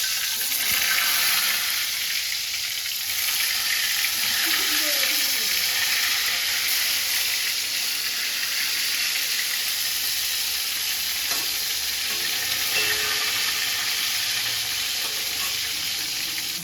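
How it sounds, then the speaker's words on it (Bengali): Pointed gourd pieces frying in oil in a wok, giving a steady, bright sizzle that holds at an even level throughout, with faint kitchen noises underneath. "পটল ভাজাগুলো ছেড়ে দিলাম"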